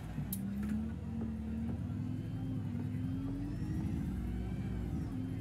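A low, steady video game bus engine drone (Citybus 200 in OMSI 2) with a whirring tone that slowly rises in pitch as it accelerates through its gears, moderately quiet.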